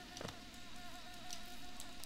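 Bees buzz steadily in a Hollow Knight cave area, a thin continuous drone with faint wingbeat flickers, moderately close and alone without speech.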